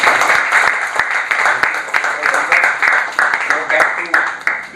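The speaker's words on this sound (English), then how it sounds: "So we give a round of applause for all these." An audience gives a round of applause for panelists at a business chamber's panel discussion, clear close claps in a brisk, uneven rhythm that swell and dip over several seconds, with some voices mixed in.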